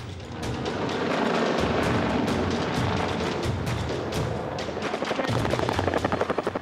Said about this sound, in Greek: Ελικόπτερα Καϊόβα της αεροπορίας στρατού εμφανίζονται από χαμηλό ύψος και εμπλέκουν με πυρά εχθρικούς στόχους.